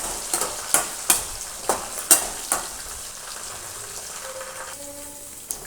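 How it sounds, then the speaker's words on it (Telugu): Garlic and green chillies fry in a pan for tomato pachadi, with a steady soft sizzle broken by several sharp stirring clacks of a spoon against the pan, followed by a faint tonal hum near the end. "పచ్చిమిర్చి కొంచెం వేగిన తర్వాత వెల్లుల్లి వేసుకుందాము"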